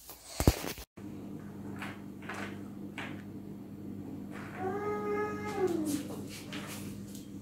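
A cat meows indoors, one drawn-out rising and falling call near the end, over a steady low hum, with a sharp knock and brief thuds earlier.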